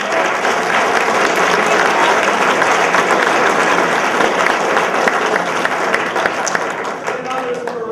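Loud, dense applause from a crowd at a high school spring sports awards ceremony, steady clapping lasting several seconds with a slight fade toward the end.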